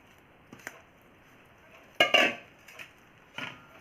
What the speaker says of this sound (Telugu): ఇప్పుడు ఇది మెత్తగా చపాతీ ముద్దలా కలుపుకోవాలి